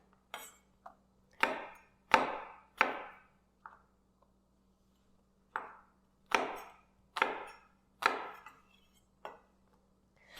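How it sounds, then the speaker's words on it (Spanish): A knife cuts an apple into small squares on a board for Christmas punch, making about a dozen sharp, close chopping thuds in uneven bursts with brief pauses, alone and without talk. "Y también voy a cortar cuadros pequeños"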